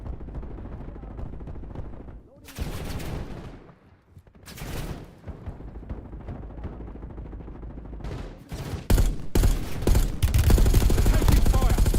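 Rapid bursts of video game shooter gunfire, with heavy sustained volleys at the start and again near the end, broken by quieter stretches with a brief lull, loud and dense throughout.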